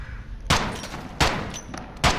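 Three separate gunshots from Call of Duty: Modern Warfare, each a sharp loud crack spaced roughly three-quarters of a second apart, standing alone without talk.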